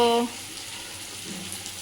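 Soft, continuous sizzling of food frying in a pan, steady and low, following a brief tonal sound at the start.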